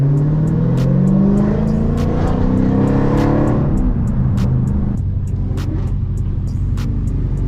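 Cars rev hard and accelerate through a tunnel. The engines roar loudly, and the echo rises and falls as they pull away, with sharp pops throughout.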